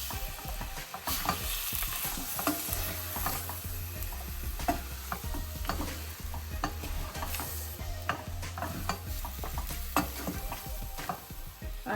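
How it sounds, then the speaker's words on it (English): Mutton pieces being stirred and fried with dry masalas such as salt and coriander powder in a pan on a lowered flame, a continuous sizzle with frequent scraping and clacking strokes of the spoon, no voices. "We'll give it a good mix so all the pieces are coated with these masalas"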